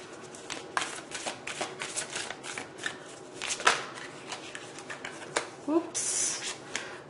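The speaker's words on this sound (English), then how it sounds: "That's just me being a clumsy shuffler." Tarot cards are shuffled by hand in a long run of quick riffling and slapping bursts at close range, with speech heard in between.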